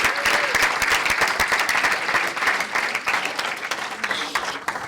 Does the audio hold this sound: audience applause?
yes